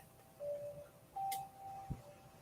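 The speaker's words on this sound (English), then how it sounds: "As you hear the chimes, be present." Meditation chimes ring softly in a quiet room, a few sustained bell tones sounding one after another with a brief low knock near the end, no voices present.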